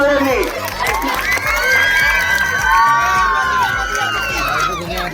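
Spectators at an outdoor kusti wrestling bout roar, cheer and whoop loudly in a dense, sustained crowd din, with children's shouts rising above the mass of voices throughout.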